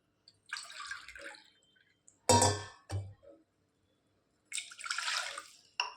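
Two cups of water are poured into a cooking pan while preparing tomato bath, coming through as a few short splashes and trickles separated by quiet gaps, close by and fairly soft.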